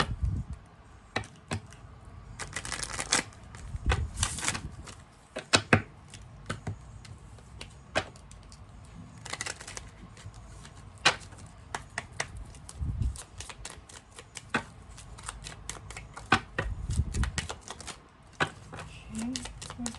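Tarot-style cards are shuffled and drawn during a reading, giving bursts of crisp riffling and slapping flicks with small taps between them, close by and quiet, over a hushed room.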